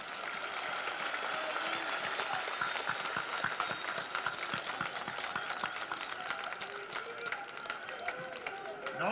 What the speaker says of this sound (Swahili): Naomba makofi yazidi ili ayaone afurahi mama yetu.